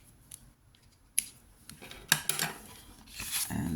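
Scissors snip thread on a handmade greeting card, a few crisp metallic clicks spaced apart, near and fairly quiet, followed by light rustling handling noise.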